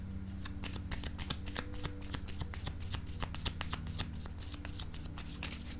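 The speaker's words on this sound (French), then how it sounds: "Je vais déposer une carte ici pour avoir des détails." Cards are handled on a table during a card reading, a rapid, continuous run of crisp flicking and riffling clicks, close and fairly quiet, with no talk.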